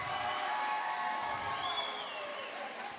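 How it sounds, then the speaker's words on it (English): Audience applause and cheering for a young grappling fighter after his win at an amateur fight night, a sustained wash of clapping with crowd noise and voices mixed in. "give him a round of applause"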